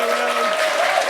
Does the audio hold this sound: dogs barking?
no